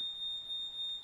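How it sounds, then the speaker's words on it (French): A household smoke alarm sounds as a steady, piercing high-pitched tone held for about a second, moderately loud indoors with no other sounds. "excusez-moi, c'est l'alarme, c'est normal"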